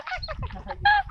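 Chickens at a rural Philippine home giving several close, loud honking clucks and squawks in quick irregular bursts, with a low murmur of voices underneath.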